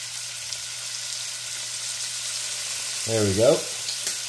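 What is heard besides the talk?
ground beef frying in a skillet with Worcestershire sauce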